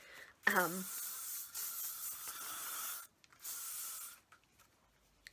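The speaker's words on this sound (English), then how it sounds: "I'm just going to use some Elnett" A steady hiss of Elnett aerosol hairspray sprayed on hair runs for a few seconds, pauses briefly, then sprays again more faintly, with a short voice sound at the start.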